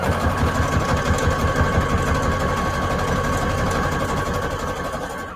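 Sewing machine stitching across the top of an index card pocket, a loud, close, steady mechanical whirr with rapid rhythmic needle chatter running continuously for several seconds.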